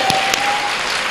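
A church prayer gathering claps for the Lord, a brief burst of loud, dense applause close at hand, with a faint steady tone running beneath it.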